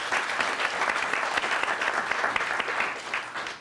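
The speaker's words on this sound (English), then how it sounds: "how about a round of applause for that?" An audience at an MLK Jr. Scholarship Reception at Allegheny College gives a round of applause: sustained, even clapping from many hands, fairly close, fading slightly at the end.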